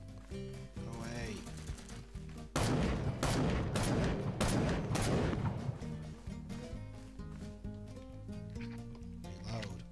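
Rapid gunfire fills a first-person shooter made with FPSC Creator, a dense burst of shots over a few seconds in the middle, set against steady game music and sound effects.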